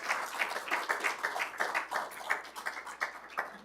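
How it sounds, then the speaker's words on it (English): An audience at a small-town funding announcement in Quispamsis claps in a burst of uneven, close, dense hand claps, steady throughout, no talking over it. "You can clap."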